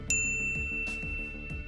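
A notification bell sound effect rings out in a bright single ding, followed by a couple of softer chiming tones and short tonal notes, close and clean with no voices.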